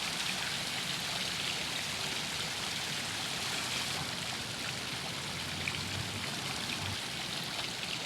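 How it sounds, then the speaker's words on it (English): Tranquil fountains splash steadily in a courtyard at night, a continuous bright wash of falling water heard from nearby with no other sounds breaking through. "Enjoy the beautiful sounds of the tranquil fountains."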